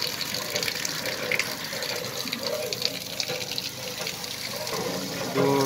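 Water gushes steadily from a hand pump at a newly opened drinking-water fountain in Southern Turkestan, a continuous splashing stream that stays loud and even throughout, with no talking.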